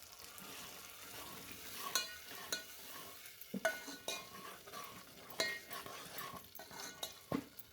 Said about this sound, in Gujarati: કઢીને આપણે એકવાર હલાવી દઈશું.